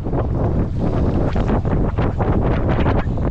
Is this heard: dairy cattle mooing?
no